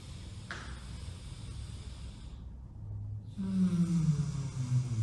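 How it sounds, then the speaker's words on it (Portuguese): Slow, deep breaths in a breathing exercise: a long airy inhale and exhale, a brief pause of near silence, then a louder, fuller breath with a rough, snore-like rasp, close up and without talk. "Perceba como essa respiração ela é mais longa."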